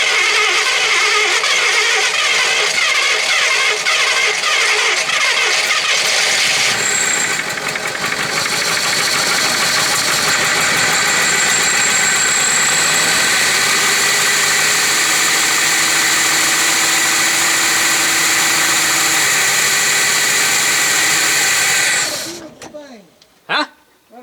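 An abandoned 1966 Chevy Biscayne big block cranks and fires for its first start since 2003, then idles loud and rough with a steady roar for about twenty seconds before shutting off, people talking over it.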